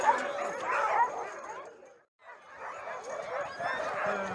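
Several dogs in Alaska yelp, whimper and bark excitedly in a busy mixed chorus, with a brief lull partway through before the noise picks back up.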